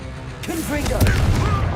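Fire-blast spell explosion from Hogwarts Legacy, a dull boom bursting through a dense, continuous game mix with speech-like tonal voices over it, moderately loud and sustained.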